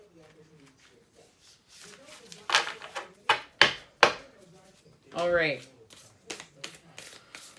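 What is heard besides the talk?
shuffling tarot cards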